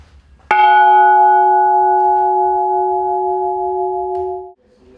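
A single antique Russian church bell struck once at an exhibition, its loud bright clang settling into a long sustained hum of steady tones that rings for about four seconds before being cut off, with no voices.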